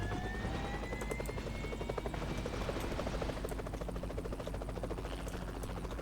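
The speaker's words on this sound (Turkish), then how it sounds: "helikopter orada da o düzelecek mi?" A helicopter in the PUBG Mobile game drones loudly and steadily throughout, its rotor and engine noise forming a constant, close whir with no pauses.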